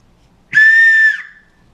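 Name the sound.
survival necklace whistle being blown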